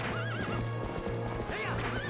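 A horse in the video game Zelda Twilight Princess whinnies twice with rising, wavering cries over rapid clip-clop hoofbeats, close and clear, with no talking.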